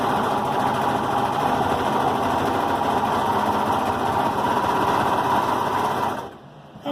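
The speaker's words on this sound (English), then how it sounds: "So I'm going to serge the arms together" A Brother 1634D serger sews the arm seams of a dog sweater in black thread, a fast, even mechanical whir running loud and unbroken for about six seconds before it stops abruptly.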